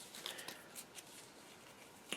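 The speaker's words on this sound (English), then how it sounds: "So all of them are together, so give them a good shuffle." Star Saga game cards being shuffled by hand give a few soft, quick riffling bursts, close but faint in a quiet room.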